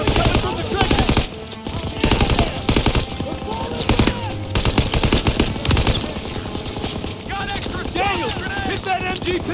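Machine gun fire rattles from a pillbox in a Call of Duty World War II battle: loud, rapid automatic bursts come in waves with short gaps, and soldiers shout over the shooting near the end.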